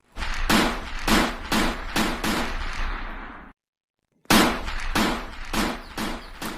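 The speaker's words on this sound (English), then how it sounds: "To a mini pistol to fire." Cartoon mini pistol firing in rapid bursts, a dense run of loud, sharp shots that stops abruptly for a moment of silence and then resumes just as fast and loud.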